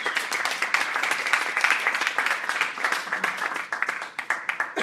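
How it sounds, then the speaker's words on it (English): A crowd claps steadily and densely, sustained applause filling the room throughout. "a big clap for Manel."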